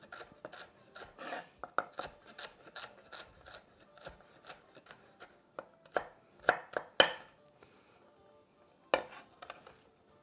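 A sharp knife chopping onion on a board, a quick run of crisp, close taps that slows into scattered cuts and pauses, faint and without voices.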